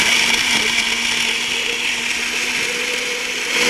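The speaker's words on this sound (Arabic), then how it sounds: "وبرضو منخلطهم بالخلاط." A blender whirs steadily, crushing ice and mixing a cold summer juice. The motor is loud and close, with a constant grinding drone that runs unbroken for the whole stretch and no talking over it.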